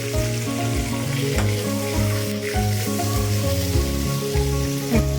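Tilapia fish frying in oil in a pan, a steady dense sizzle that runs continuously at a close, even level with no speech over it.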